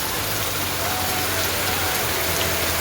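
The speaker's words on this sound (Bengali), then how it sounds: "খুব জোরে বৃষ্টি পড়ছে" Heavy rain pours down in a loud, dense, unbroken hiss, close by and with no voices.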